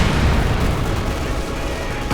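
German artillery shells explode against a Soviet squad in the video game Company of Heroes 2, a loud, dense rumble of blasts and bursts that fills the whole stretch without letting up.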